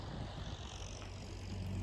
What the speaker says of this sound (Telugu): అక్కడ ట్రాక్టర్ తుంటుంది.